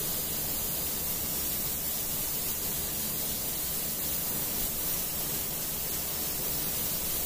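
An airbrush sprays paint from the top down onto an Adeptus Mechanicus Dune Crawler tabletop miniature, giving a steady, close broadband hiss that runs unbroken and evenly loud throughout, with no talking.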